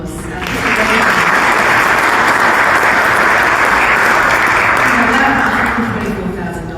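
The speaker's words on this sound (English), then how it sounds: "Why don't we have a round of applause?" Sustained audience applause at a book launch event, a dense, loud wash of clapping that swells in quickly, holds steady for several seconds, then begins to taper at the end.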